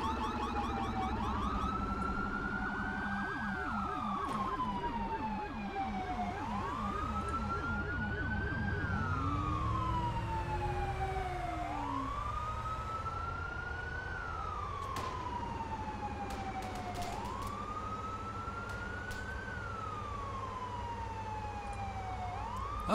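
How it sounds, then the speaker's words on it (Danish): Wailing police car sirens from several patrol cars chase the player in a video game, their rising and falling tones sweeping repeatedly and loudly through the whole stretch, overlapping one another with no talk. "nu har jeg tre politibiler efter mig."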